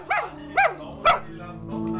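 A house dog gives three short, separate barks up close, each a sharp single woof with pauses between, followed by quieter room noise.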